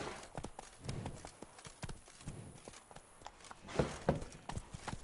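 Geralt's horse Roach in The Witcher 3 walking at an even pace, soft rhythmic clip-clop of hooves on the ground, fairly quiet and close, with a couple of slightly heavier steps near the end.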